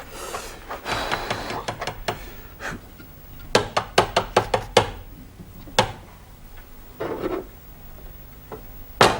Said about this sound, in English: let's get on with peeling the hard-boiled eggs then, shall we?